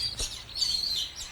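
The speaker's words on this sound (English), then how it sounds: "It's all different types of lorikeets." Lorikeets of several types chirp in an aviary: a few quick, bright high-pitched tweets and squeaky calls over a short stretch, fairly close and loud, with no talking.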